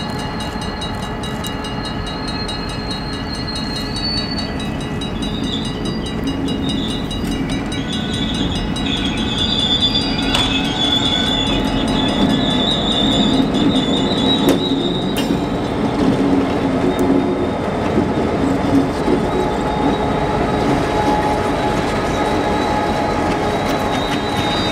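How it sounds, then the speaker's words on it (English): A pair of GP38-2 diesel locomotives rumble steadily nearby into Coxton Yard, Pennsylvania, with a continuous engine drone, rail squeals and occasional metallic clanks as they roll slowly along the track. "A pair of GP38-2s from the OCS train that came up here several days earlier is heading into Coxton Yard"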